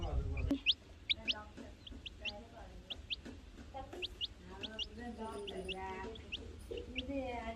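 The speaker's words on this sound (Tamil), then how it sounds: "இந்த கோழி குஞ்சு வந்து நொய் அரிசி சாப்பிட்டுட்டு இருக்கு" A chick pecks at broken rice on a farm, its thin high peeps and soft clucks repeating in quick bursts among other birds chirping nearby, while people talk over them.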